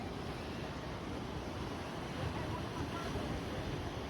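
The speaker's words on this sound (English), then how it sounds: "the waves were smashing into that little box cove and going over the rocks" Ocean waves crash against rocks in a small cove on the Acadia coast of Maine, a steady, dense roar of surf with gusty wind noise buffeting the microphone throughout.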